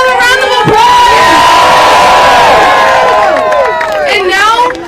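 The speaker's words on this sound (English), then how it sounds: "Can we get another round of applause?" Crowd cheering and applauding at a voting rights rally, loud and continuous, with sustained shouts and whoops over clapping that carries on for several seconds.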